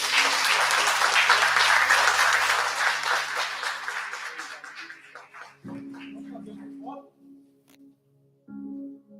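A church congregation at a baby's presentation service applauds heartily, then the clapping thins out and fades after a few seconds, giving way to sparse sounds and a voice.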